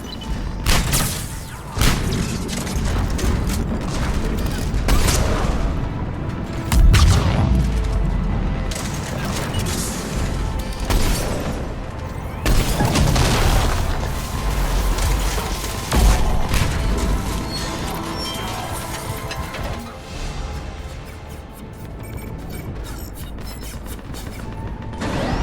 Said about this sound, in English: Cannons initializing.